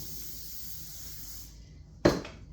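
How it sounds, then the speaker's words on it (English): A can of cooking spray coats a baking pan for sourdough cinnamon buns, a short sharp hiss bursting out loudly and tapering off over a room-noise background. "Now I'm just going to take one of my pans here. I'm going to spray it."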